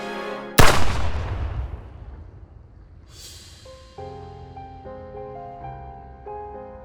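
A single loud gunshot cracks in a detective drama and rolls away in a long echo, followed by a second fainter blast, with a soft musical score rising underneath.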